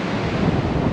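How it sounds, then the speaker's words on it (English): Strong wind blowing by the sea on the Monterey coast, a loud steady roar with heavy microphone buffeting and a wash of surf underneath, no voices. "Quite windy."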